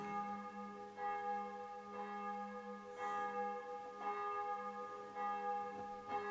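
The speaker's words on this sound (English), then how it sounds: "The bells again." Church bells ring at a distance, faint and steady, with repeated strikes roughly every second and long overlapping resonant hum between them.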